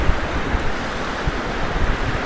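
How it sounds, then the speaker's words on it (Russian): Stormy sea waves roll onto a beach at Blagoveshchenskaya under strong wind, giving a loud, continuous roar of surf with gusts buffeting the microphone and no voices. "при таком ветре, естественно,"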